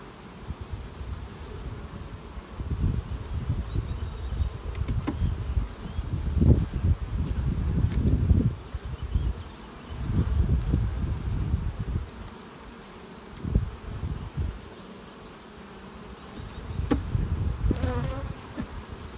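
Honey bees buzz steadily around an open brood frame lifted from a hive while queens are being reared, a dense, close insect drone that swells and fades in waves with no talk over it.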